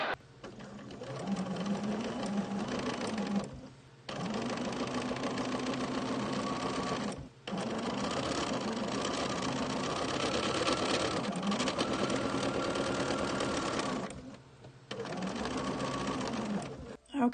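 Domestic sewing machine stitching an abstract wildflower art quilt, a steady close whirring hum running in long stretches broken by brief stops, with a voice talking faintly over it at times.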